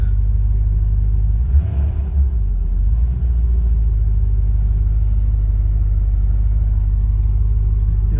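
A 1978 Porsche 928 with a 4.5-liter V8 idles while warming up, giving a loud, steady, deep rumble that stays even apart from a slight swell early on, with no voices.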